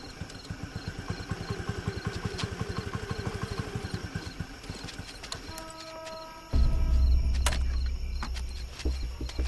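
A motorbike engine ticks over in an even, rapid pulsing idle for several seconds, then gives way to a louder, deeper rumbling thump with scattered clicks and knocks, close by and without talk.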